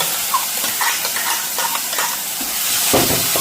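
Ginger garlic paste frying in hot oil, a bright steady sizzle with stirring scrapes and clinks of a spoon against the pan, close and loud with no voices.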